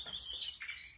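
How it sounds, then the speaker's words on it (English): Small birds chirp and tweet in quick, high bursts near a home being redecorated, a lively run of overlapping calls with no talking. "Oh, some bird action in there."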